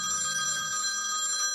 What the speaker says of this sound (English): Night scene was woken up by the ringtone.